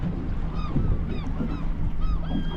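A large flock of around a thousand gulls calls over the sea beside a fishing boat, repeated yelping cries near and far over a low rumbling engine and water background.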